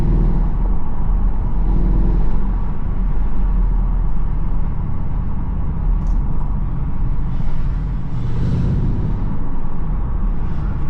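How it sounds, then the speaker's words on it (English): Porsche Cayenne Turbo with a secondary cat bypass, its exhaust giving a deep, continuous rumble off throttle in second gear, loud and close throughout with no talking. "these rumbles that come off when you let go of the gas"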